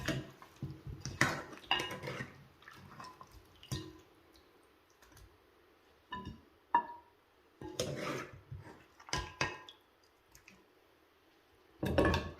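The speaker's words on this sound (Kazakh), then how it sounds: "Енді ыдысымызға сала берсек болады. Осылай бір араластырып жібереміз жақсылап." Intermittent clinks and scrapes of a spoon against a metal kazan pot while kazan kebab is stirred and served, coming in irregular bursts with quiet gaps between, close by and without speech.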